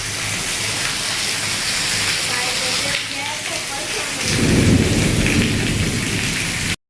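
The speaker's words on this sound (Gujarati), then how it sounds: "જોરદાર વરસાદ આવ્યો છે કડાકા સાથે." Heavy rain pours down steadily in a thunderstorm over Rajkot, a loud dense hiss on surfaces, with a deep rumble of thunder rolling in near the end before the sound cuts off.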